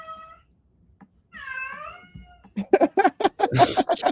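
A cat meowing and crying to get out, long drawn-out wails followed by a rapid burst of loud, harsh caterwauling cries, close and alone.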